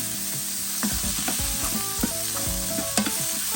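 Sliced onions sizzling in a pan for chicken sinampalukan, a steady close frying hiss with light scraping stirs of a utensil against the pan.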